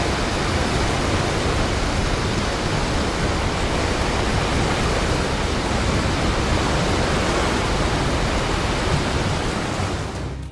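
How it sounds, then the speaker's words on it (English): Large ocean waves surge and crash in a steady, loud, roaring wash of broadband noise that runs unbroken from start to finish, with no voices. "Powerful large waves surged, creating a majestic and overwhelming scene."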